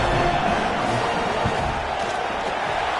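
Home crowd cheering in a college football video game, a dense continuous roar of stadium noise at steady loudness, with faint commentary-like voices mixed in.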